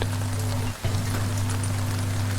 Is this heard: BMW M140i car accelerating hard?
no